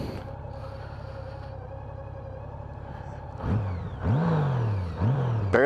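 A large Japanese motorcycle engine idles with a low, steady, fairly quiet burble, then gets three quick throttle blips, each a rising, then falling rev, close by with no talking.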